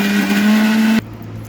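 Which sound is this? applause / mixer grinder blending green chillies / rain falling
mixer grinder blending green chillies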